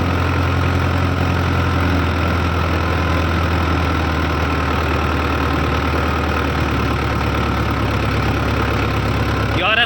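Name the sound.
60 HP tractor engine running an 8-foot rotavator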